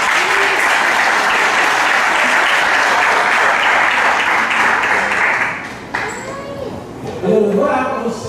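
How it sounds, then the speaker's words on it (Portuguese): Church congregation at a Nova Vida service in Catete breaking into loud, sustained applause for the Lord, dense clapping that fades after several seconds as voices and a child's chatter rise. "Dá uma salva de palmas ao Senhor."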